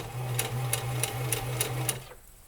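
A Singer Heavy Duty 4452 sewing machine back stitching, giving six even, rhythmic bursts of loud mechanical stitching with a steady motor hum, then stopping abruptly near the end.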